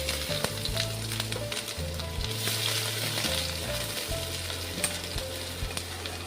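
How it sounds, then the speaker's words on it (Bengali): Chopped ginger sizzles in hot oil with whole garam masala, dried red chillies and bay leaves for stuffed potato dum. The frying crackles steadily under soft background music, with no voices. "আদাটাকেও একটু ফ্রাই করে নেব"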